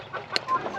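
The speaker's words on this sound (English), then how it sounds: "I went and got me some more of these cinnamon queen chickens." Cinnamon Queen chickens cluck softly over a low background hum, with a couple of short sharper calls standing out in the middle.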